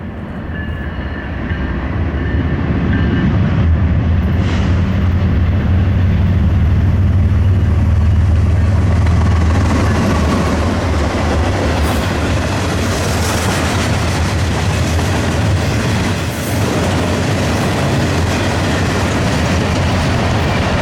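Norfolk Southern freight train B09 passing close and loud, its heavy rumble and rattling wagons building quickly then holding steady for a long stretch without speech.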